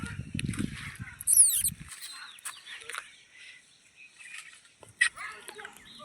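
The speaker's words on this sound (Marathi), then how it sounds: "मस्तपैकी पक्ष्यांचा पाखरांचा आवाज चिवचिवट चालू आहे" Birds chirp and call intermittently in short bright bursts against a quiet village morning background, with a few clucking sounds and brief low noise early on.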